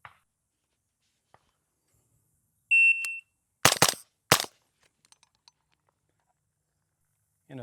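A suppressed Daniel Defense PDW in 300 Blackout fires three loud, sharp shots with a brief gap before the last, preceded by an electronic beep, in an otherwise quiet setting.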